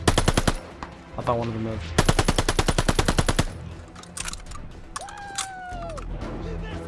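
Machine gun fire in Call of Duty Vanguard, El Alamein battle: loud, rapid bursts of evenly spaced shots in two long volleys, with a falling whistle and whining tones between, under a brief spoken line.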